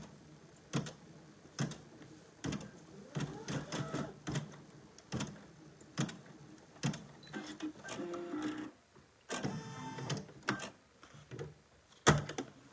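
A Brother PE 800 embroidery machine sews a placement stitch, giving repeated mechanical clacks and whirring bursts in an uneven rhythm, close and clear, with no talk.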